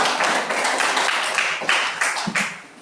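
A group claps together during a teacher-training classroom session, a dense, fairly loud patter of hands with a few sharper accented claps, fading toward the end.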